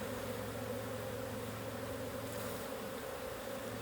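Honey bees swarming over hive frames during a hive inspection make a continuous, close buzzing drone with a steady hum throughout, and no one is talking.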